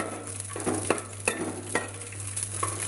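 Raisins frying in hot oil give a close, crackling sizzle, punctuated by several light clinks of a metal utensil against the pan over a faint steady hum.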